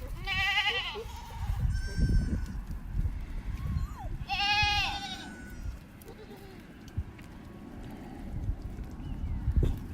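Goats on a farm bleat in two loud, quavering calls a few seconds apart over muddy ground, with scuffling, footsteps and faint background noise, and voices briefly in the mix.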